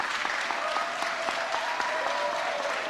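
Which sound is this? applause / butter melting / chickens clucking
applause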